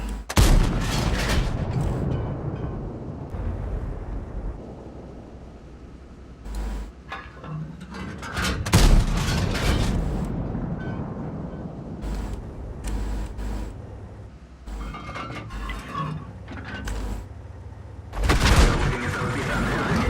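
Artillery fire in World of Tanks, heavy booms and blasts landing at irregular intervals amid shell hits and mechanical clatter, with a few louder bursts standing out.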